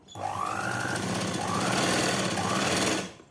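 A sewing machine stitching a blouse seam while joining the shoulder, running as one steady, loud rapid mechanical chatter for about three seconds, close by with no talk.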